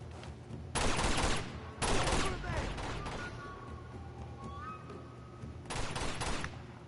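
A sniper battle in Uncharted 2 on a game console: several loud cracking shot bursts stand out against a steady low background rumble, spaced a second or more apart, and there is no talking.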